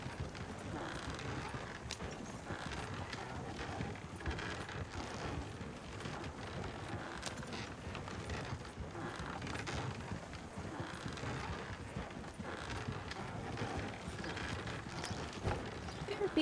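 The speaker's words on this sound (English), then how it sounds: "Appears to be a horse here at the orchard." Horse hooves clip-clop at an orchard in the WildRP video game, a steady trotting patter under wind noise throughout, with no voices.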